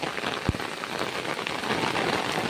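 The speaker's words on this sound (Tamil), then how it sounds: "அவ்வளோ மழை பெஞ்சிட்ருக்கு" Heavy rain pouring down on a flooded street and surrounding ground, a continuous hissing patter of drops on wet surfaces with one sharp knock early on, steady and fairly quiet, with no talking.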